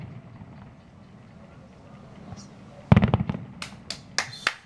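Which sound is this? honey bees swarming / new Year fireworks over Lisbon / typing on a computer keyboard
new Year fireworks over Lisbon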